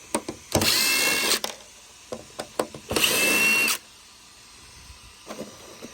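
A power screwdriver backs screws out of a Traxxas XRT RC truck: two longer whirring bursts, each around a second, separated by short clicks and brief trigger blips, with quiet gaps between.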